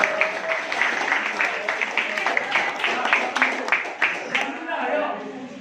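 Applause from a class audience of students after a group presentation, steady clapping with a crowd texture, fading near the end.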